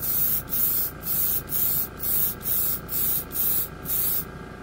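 An aerosol can spraying a light coat of Steel Apple metallic red paint, about nine short even hissing bursts in a steady rhythm, close and alone.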